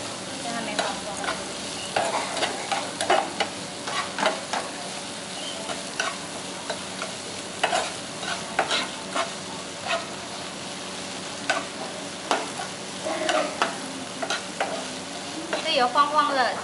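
Tofu stir-fried in hot oil in a wok, a close continuous sizzle broken by frequent scraping and clanking of the spatula against the pan in an uneven rhythm, with no talking.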